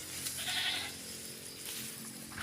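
Goats: one bleats once in a drawn-out call, followed by a shorter bleat later amid outdoor background noise.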